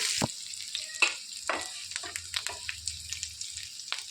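Cumin seeds and a sprig of curry leaves sizzle in hot oil for coconut chutney, with close, crackling pops and spits that flare up in short bursts against a quiet background.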